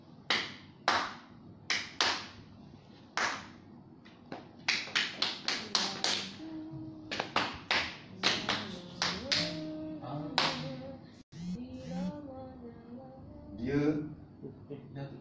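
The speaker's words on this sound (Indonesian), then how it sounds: "Pam, saya tepuk." Hand claps tapping out a rhythm in a vocal class: a sequence of sharp, close claps in long and short groupings, then a speaking voice takes over in the second half.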